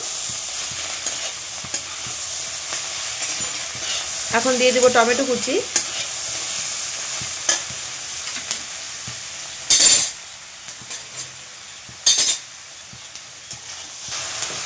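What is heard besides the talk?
vegetables and tomato stir-frying for mutton chowmein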